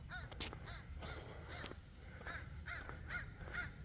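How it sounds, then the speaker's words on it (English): Repeated harsh cawing from crows at a moderate distance, a steady series of calls over a constant outdoor background hum. "These crows"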